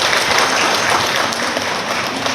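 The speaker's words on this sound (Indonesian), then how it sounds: "Tepuk tangan dulu." Dense, steady applause from an audience at an event on digitalisation, a continuous wash of many hands clapping at moderate volume, with no talking.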